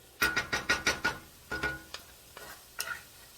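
A spoon scrapes and taps through Tex-Mex chicken and beans in a skillet, about six quick rhythmic strokes, then a few slower, scattered scrapes, close and clear.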